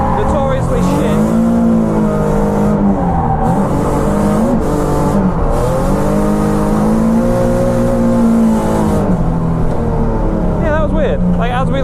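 A Nissan 370Z revs loudly from close range while it drifts on a track, its engine note rising and falling through repeated throttle swings and over-rotation into a corner. The car is running on less than half a tank of fuel. Someone talks over the engine noise.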